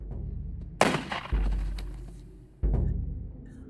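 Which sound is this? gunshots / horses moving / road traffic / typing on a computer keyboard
gunshots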